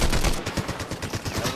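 Rapid gunfire in a video game, a quick string of sharp cracking shots at an irregular fast pace, loud and close, with no voices.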